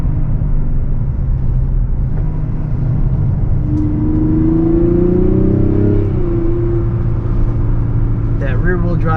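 A 2024 Mazda CX-90 with the 3.3 turbo engine downshifts through an S-curve, its engine note climbing and sweeping in pitch over a steady low cabin rumble.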